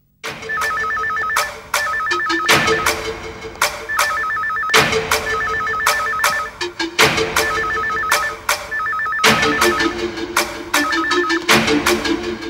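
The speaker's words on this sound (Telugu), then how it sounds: "ఫోన్ చేసిందేమో" An indoor telephone rings loudly and persistently, its electronic trill repeating in regular bursts with short gaps throughout, alone without voices.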